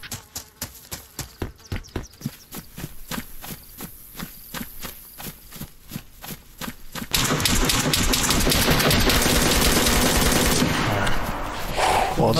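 Automatic gunfire in the DayZ video game comes as a rapid series of sharp shots, followed by a sudden, loud, dense burst of noise that holds to the end.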